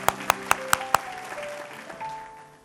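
A church service crowd gives about five sharp, evenly spaced claps near the start, with sustained musical tones ringing on underneath and lingering after the clapping stops.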